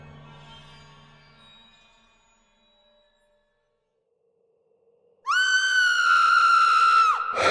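A woman's shrill scream rings out from the next room as a dramatized effect, one sustained high cry bursting in suddenly after near-silence and a faint low hum, then cutting off sharply.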